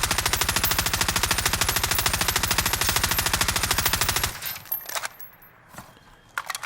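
An assault rifle in Call of Duty Warzone fires a long rapid automatic burst for about four seconds, loud and evenly paced, followed by scattered clicks and faint game noises.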